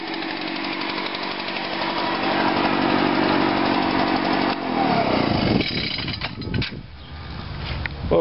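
A lawn mower engine runs loud and steady up close on a hot summer lawn-cutting day, then stutters and backfires with sharp sputtering pops in its last few seconds, with no talking.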